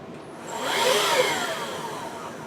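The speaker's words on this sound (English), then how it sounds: "Let's see what kind of suction this vacuum has." A Hoover React vacuum cleaner motor runs nearby, swelling to a louder whining roar in the middle and then holding a steady drone with a thin high whine on top, no talk.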